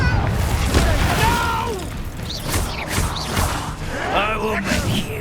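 The Confringo spell fires in Hogwarts Legacy, giving a booming explosive blast with crashing, whooshing magical effects. Voices talk and shout over the combat noise.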